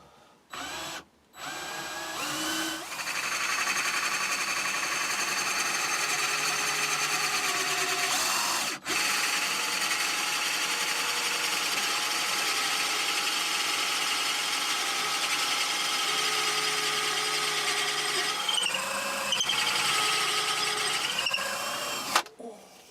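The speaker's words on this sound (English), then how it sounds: "Right, we shall get that drilled out." Power drill bores steadily into a wooden piece clamped in a vice for a scrap-wood garden lighthouse, a loud continuous whine running about twenty seconds with a brief pause partway through.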